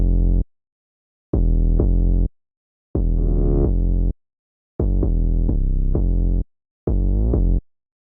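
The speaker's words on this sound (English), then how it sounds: "the most important thing, the 808" A hip-hop 808 bass pattern built from chopped notes plays alone: five loud, deep, sustained bass phrases with short re-triggered hits and brief silent gaps between them.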